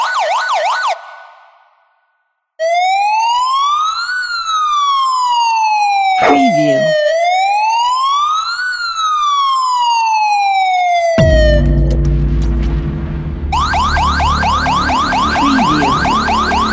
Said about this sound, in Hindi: मैं पुलिस का धुन लगा दे रहा हूँ, अब वो लोग सुनकर भाग जाएंगे